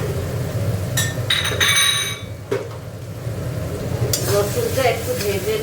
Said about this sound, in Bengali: রসুনটা একটু ভেজে নিচ্ছি